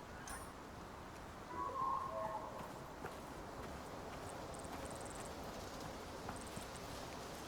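Steady clip-clop of horse hooves at a walking pace in the video game Icarus, over a soft ambient bed, with a faint voice briefly in the background.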